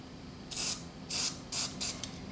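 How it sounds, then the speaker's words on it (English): A cleaner spray is shot into the record switch of a Sony TCD5 cassette recorder, heard as four short close hissing bursts, the first two longer and the last two quick. "get a shot of cleaner down into the switch"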